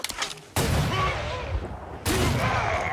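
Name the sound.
gunshots from The Culling video game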